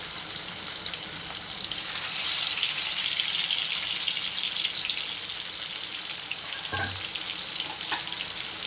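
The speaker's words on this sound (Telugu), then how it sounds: "ఆయిల్లో వేస్తున్నాను ముక్కను" Pieces of fish sizzle in hot oil with a steady bright crackle and hiss, and a brief splash-like pop as another piece drops in near the end.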